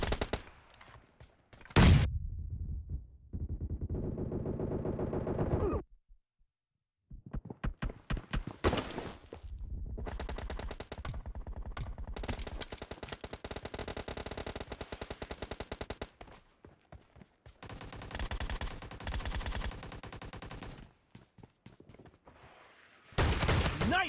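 Video game gunfire in repeated bursts of rapid automatic shots, loud and close, separated by short silent gaps and shifting in intensity across the stretch.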